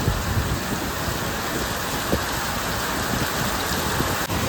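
Heavy monsoon rain pours onto a shop's name board and a parked motorbike, a dense, loud, continuous hiss with occasional louder drips and splashes, no voices.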